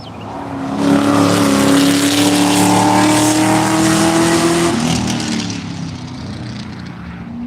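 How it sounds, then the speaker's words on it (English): A Corvette race car screams past the start-finish line at VIR during a track session, its engine note loud and rising as it approaches, then dropping in pitch and fading as it pulls away. "the Kentucky Boys Corvette passes start finish"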